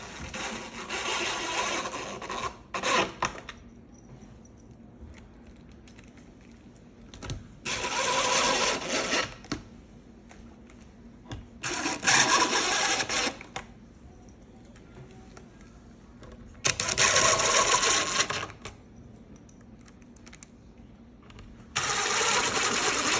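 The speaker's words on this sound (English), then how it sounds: "Now we will put in another 5 short screws." A power driver sinks short screws into a wooden woodshop bench. Four or five separate bursts of whirring come a few seconds apart, each lasting one to two seconds, with quiet handling noises between them and no talk.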